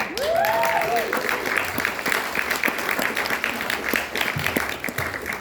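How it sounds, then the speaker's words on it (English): Steady applause from a crowd, continuous clapping filling the room with a few voices mixed in, fairly loud throughout. "can I have a big round of applause, please, for Andy and Sean"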